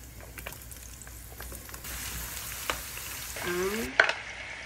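Garlic and chili frying in a pan: a steady, fairly faint sizzle with a few stirring clinks and scrapes, close by and with no talk.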